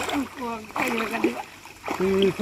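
A man swims in a village pond, with close watery splashes and sloshing between strokes while people talk over them.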